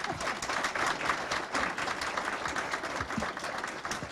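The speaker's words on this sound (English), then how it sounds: "Maybe a round of applause for our panelists." Audience applause for panelists at the close of a business expert panel discussion, a steady wash of many hands clapping that holds at even loudness throughout.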